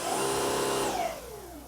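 A Dyson cordless vacuum cleaner runs with a loud, steady high-pitched whine, then winds down and fades as the motor switches off, with no talking.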